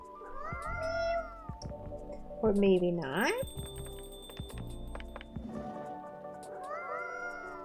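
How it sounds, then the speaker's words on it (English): A mysterious cat character meows several times in drawn-out, rising and falling cries, clear and close, with a person talking in between. "This kitty cat's so cute!"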